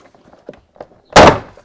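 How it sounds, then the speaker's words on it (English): A Mitsubishi Pajero interior door trim clip pops loose with one sharp, loud thump and rattle after a run of faint handling clicks and rustles. "Pop the door clips underneath here"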